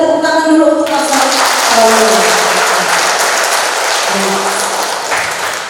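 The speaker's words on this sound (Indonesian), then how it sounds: "Boleh kita tepuk tangan dulu untuk Pastor." Seminar audience applauding a pastor at a church session, dense steady clapping that fades slightly toward the end, with a brief held tone at the start.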